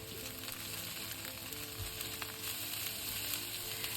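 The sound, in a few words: stir frying cabbage with garlic in a pan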